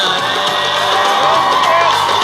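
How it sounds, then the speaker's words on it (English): A college fest crowd cheers and whoops loudly and steadily, a dense wash of shouting and yelling filling the space without a break, with applause blended into the roar. "Please give them a huge round of applause."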